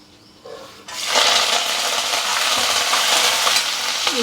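Curry leaves, green chili and ginger drop into hot oil while making foxtail millet upma, setting off a sudden loud, steady sizzle and crackle that continues close up after a brief quieter start, no talking.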